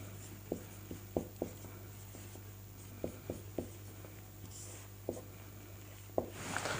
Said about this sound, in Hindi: तो यहाँ पर लिख देंगे अगच्छताम